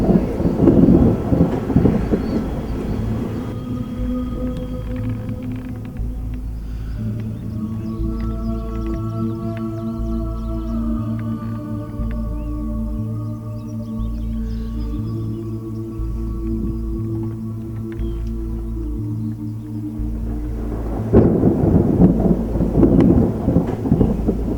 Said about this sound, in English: Storm chasing at Gettysburg.